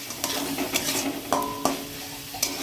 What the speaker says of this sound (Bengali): আস্তে আস্তে ধীমা জালে মশলাগুলো কষাতে হবে।